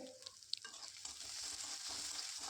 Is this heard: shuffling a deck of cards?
no